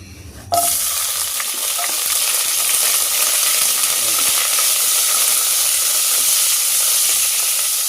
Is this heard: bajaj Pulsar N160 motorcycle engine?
no